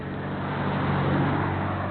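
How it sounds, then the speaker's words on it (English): A car passes along a hilly road during a road bicycle ride, a steady loud rush of engine and tire noise that fills the whole clip. "I'm glad that car come."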